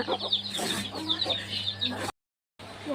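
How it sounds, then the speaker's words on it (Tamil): Hens clucking in a busy run of short, repeated calls, close by, with a low steady hum underneath and a brief dropout near the end. "இது ஒரு கோழி, இது ஒரு கோழி."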